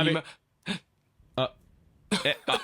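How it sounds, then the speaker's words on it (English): Several short, separate coughs and throat-clearing bursts with pauses between, up close, ending in a quick cluster of three. "actually need to cough"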